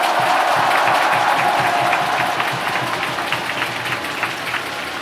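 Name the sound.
crowd applause at baseball award ceremony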